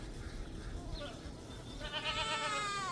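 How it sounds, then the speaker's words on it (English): Goats bleat in the distance at morning feeding time, a few overlapping hungry calls rising toward the end, faint against low background rumble. "Lots of goat noise."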